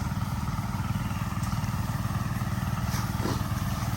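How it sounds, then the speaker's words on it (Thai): A small six-horsepower crop sprayer engine chugs steadily at a fast, even beat, loud and close, with faint clattering on top and no change in pace. "ก็เร่งเครื่องนิดเดียวก็ สบายสบายเลย เครื่องหกแรงครับ"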